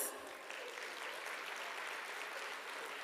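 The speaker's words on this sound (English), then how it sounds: "Can I please have a huge round of applause?" Audience applause at the 32nd annual HYSEA Summit and Awards, a continuous wash of clapping from a large crowd, fairly distant and soft but steady throughout, with no speech over it.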